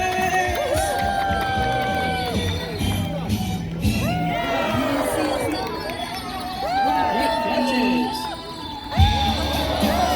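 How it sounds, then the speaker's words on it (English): Festival crowd at a flying disc dog demo cheers and whoops, children shouting and chattering loudly and continuously, with an announcer's voice mixed into the din and a burst of excitement near the end. "give it up for Sylvester and Beat Eyes"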